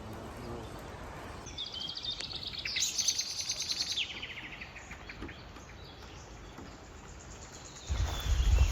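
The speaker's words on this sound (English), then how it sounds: "Birds from the trees." Birds in pine trees sing in bright high chirps and trills, clustered in the middle stretch, moderately close, with quiet outdoor ambience and a low thump near the end.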